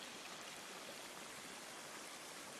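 Sulphur spring water running over the ground on a mountain trek near Padola, a steady broadband rush like a small stream, continuous and even throughout with no voices.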